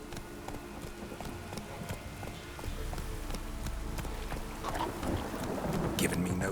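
Geralt's horse Roach gallops in The Witcher 3: Wild Hunt, a rapid, continuous clip-clop of hooves under wind and ambient rumble that grows louder toward the end.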